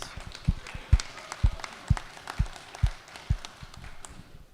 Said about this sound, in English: Y'all give our pages a big round of applause.